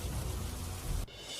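Heavy monsoon rain pours over flooded Jamnagar city streets as a dense, loud, steady hiss that cuts off abruptly near the end.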